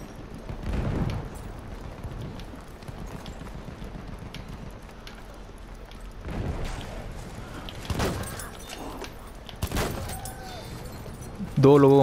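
Sniper rifle shots from the video game Battlefield 1: a few sharp, separate cracks at fairly even intervals over a busy battlefield bed, with voices talking through the clip.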